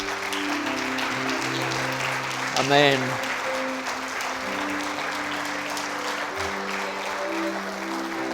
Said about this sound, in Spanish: Vamos a ofrecer una ofrenda de palmas.